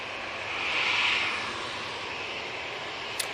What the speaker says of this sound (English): that 321neo is off to Rome